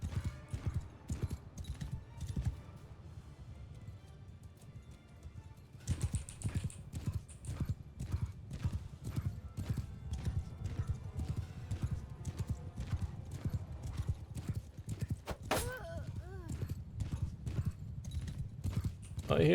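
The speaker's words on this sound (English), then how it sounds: "I hear the horses coming." Horses gallop in Mount & Blade II: Bannerlord. Hooves pound in a steady, driving rhythm that carries all the way through, with a whinny near the end and a voice talking over it in places.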